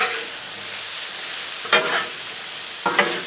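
Peppers and onions sizzle steadily on a Blackstone griddle, a continuous close frying hiss broken by two brief scraping stirs of a spatula.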